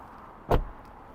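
A single short thud of a Chevrolet Bolt electric car door shutting, quiet and nearby, against faint background hush.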